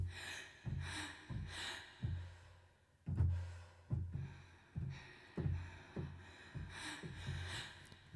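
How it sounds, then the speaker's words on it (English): Sampled breaths from the Jaeger vocal library, heard as a series of about ten sharp inhales and gasps spaced roughly a second apart, close and fairly quiet, with no other sounds. "And it's just different breathing sounds."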